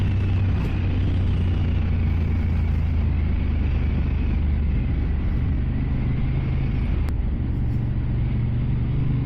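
A 2023 Honda CB 750 Hornet motorcycle being ridden, heard from onboard as a loud, steady engine drone and road rumble with rushing wind throughout.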